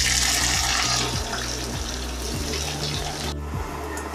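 Paneer cubes frying in hot oil in a rural kitchen pan, a steady hissing sizzle that fills the sound throughout without pause, continuous and fairly loud, with no voices over it.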